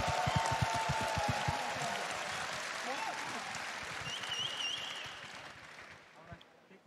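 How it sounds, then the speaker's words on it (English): Applause and cheering for Tundra Esports after their win at The International 2022 Dota 2 championship, a broad crowd roar that gradually fades out, with talking on top. "A massive cheer and a round of applause for Tundra Esports"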